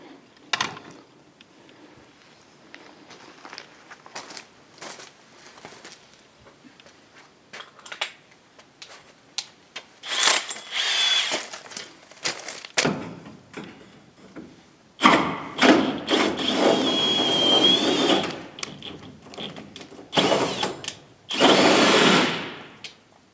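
Bursts of a cordless drill whirring as it cuts a hole through plywood, starting faint and intermittent, then louder sustained runs with short pauses between them.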